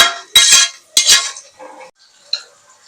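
A metal spoon clinks and scrapes against a pot while salt is stirred into a prawn and drumstick curry, a few distinct loud stirring strokes followed by softer scraping and a final light clink.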